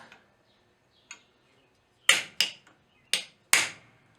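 A small ball punch is hammered on metal while shaping a rosette rivet, giving six sharp ringing strikes at uneven intervals, the first two lighter and the last four loud and close, each decaying quickly into silence.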